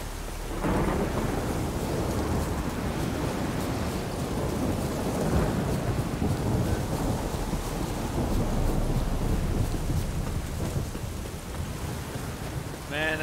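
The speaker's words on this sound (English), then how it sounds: "this game, this is one hell of a storm." A thunderstorm in the video game The Witcher 3 fills the air with heavy, continuous rain and rolling, booming thunder, loud and dense throughout, with a brief voice near the end.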